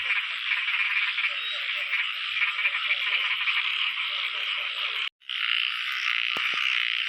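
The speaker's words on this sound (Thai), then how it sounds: "เสียงกบเสียงเขียด" Dense chorus of frogs calling together after the first rain of the season, a steady loud wall of croaking with one brief break near the end, no voices.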